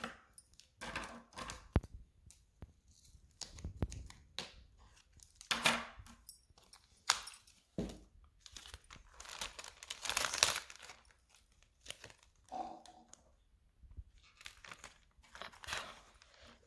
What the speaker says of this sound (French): je vais couper un bout de scotch pour qu'il puisse tenir sur ma fenêtre